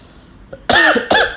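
Two sharp, close coughs in quick succession after a brief quiet moment, at the tomb of Sunan Gresik (Maulana Malik Ibrahim) in Gresik.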